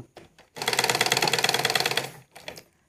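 A sewing machine runs in one steady burst of rapid, even stitching for about a second and a half as elastic is stretched and sewn onto a salwar, with brief handling noises before and after.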